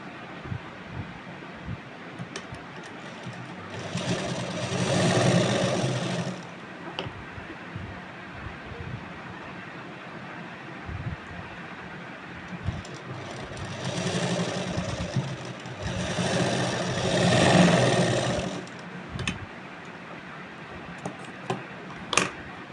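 A sewing machine stitches a Rajasthani suit blouse (kanchli) in two bursts of whirring, each a few seconds long, with quieter motor hum and handling noise between them; no one speaks.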